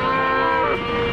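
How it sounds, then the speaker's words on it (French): Cows blocking a road in a herd let out a loud, close moo that swells and holds for about a second, with no other sound competing. "mais embouteillage des vaches."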